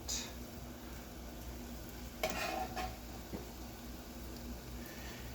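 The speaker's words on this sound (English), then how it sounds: "Now we're going to add our garlic into the pot." Garlic added to a pot of cooking onions, a quiet, steady sizzle with a few brief stirring scrapes and light clinks of a utensil, and no voices.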